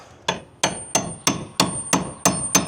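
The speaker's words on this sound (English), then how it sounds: "hammer it into the joist, or to the truss" Eight sharp hammer blows land on a metal cat's paw pry bar at an even pace, driving it into a joist, each ringing briefly; close up, with no voices.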